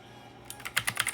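Rapid keystrokes on a Black Shark gaming keyboard, a quick burst of about eight sharp clicky taps after a brief quiet moment, close and fairly soft.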